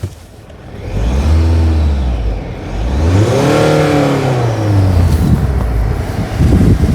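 A 2026 Kia Sorento diesel engine revs up twice, its deep growl swelling and falling in rising and sinking sweeps, loud and close, with a steady rumbling idle between the surges.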